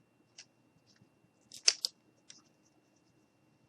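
Scissors cutting a craft stick at an angle, a few sharp close snips and clicks with a louder double crunch midway, separated by quiet pauses.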